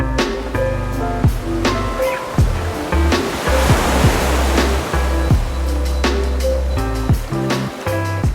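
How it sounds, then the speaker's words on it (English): Ocean surf at a California beach resort rolls in as a steady broadband wash that swells midway, heard from a room overlooking the water with music playing over it. "we have beautiful ocean. You can hear the sound."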